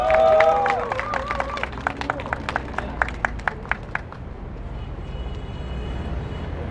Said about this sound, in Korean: 큰 박수 함성 부탁드리겠습니다.